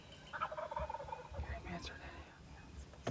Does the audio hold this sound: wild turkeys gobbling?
yes